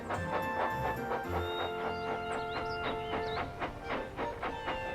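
A model steam train in the style of Thomas the Tank Engine runs along the rails with rhythmic clickety-clack and chuffing, a faint whistle-like tone and hiss, steady and close over several seconds.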